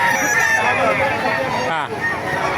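A 10-month-old Kanawayan gamefowl rooster at a rooster market in Baliuag, Bulacan crows close by, a drawn-out call over a busy crowd babble with people talking nearby.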